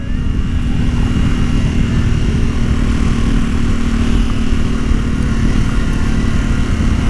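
Yamaha Tenere 700 from 2021 riding on hard-packed sand along unfinished fire roads, a steady loud engine drone with wind rush holding constant throughout, no talking.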